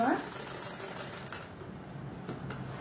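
A sewing machine runs steadily while stitching a semi-patti pant, giving a continuous mechanical whir with faint rhythmic pulses. A voice can be heard over it.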